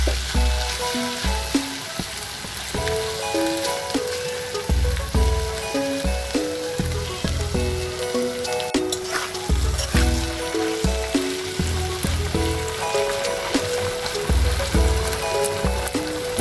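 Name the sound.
sautéing beef tripe in a pan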